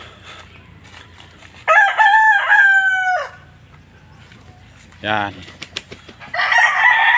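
A rooster crows loudly and close by, twice, with a brief spoken word and some clucking in between.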